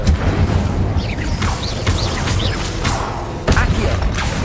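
An Incendio fire spell is cast in Hogwarts Legacy, with a continuous roaring rumble, low booms and whooshing swells, plus a sharper burst near the end and bits of in-game voice mixed in.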